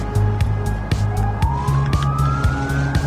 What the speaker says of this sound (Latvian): Kāpēc policija nāk pēc mums?